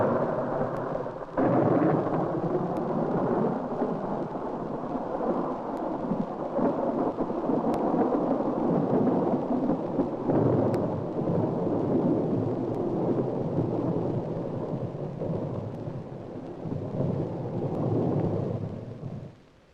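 A heavy thunderstorm roars steadily for the whole stretch, with dense rain and deep rolling thunder filling the sound, loud and continuous, heard from inside a moving car with wipers running; no one speaks.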